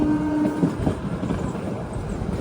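A toy train runs along its track with a steady rolling rumble and rattle, heard from on board, and a brief horn-like tone sounds at the start.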